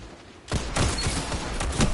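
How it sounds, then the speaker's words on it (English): A hand cannon fires in the shooter game Destiny 2, a loud burst of several quick booming shots in succession after a brief quieter moment. "I love this hand cannon so much."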